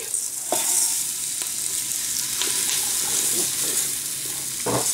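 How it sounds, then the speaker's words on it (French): Rice and onions sizzle in hot olive oil inside a Cookeo multicooker while a spoon stirs them, giving a loud, steady frying hiss broken by occasional scraping strokes. "on remue pour que l'huile d'olive imprègne, enrobe bien chaque grain de riz"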